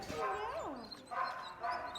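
Dogs at an animal shelter in Chile give high, wavering whines and yelping barks that rise and fall in pitch, heard fairly faintly with a break before a second round.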